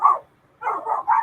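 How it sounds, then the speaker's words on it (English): A dog barks at a goat, one sharp bark followed after a pause by a quick cluster of several more, close and fairly loud with no talking. "Hey, quit barking at the goat."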